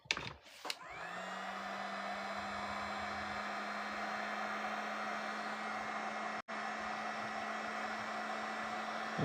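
A hair dryer blows steadily to dry paint on a crab-themed sea creature painting, a loud continuous whoosh with a low hum that starts after a brief click and runs on with one tiny dropout.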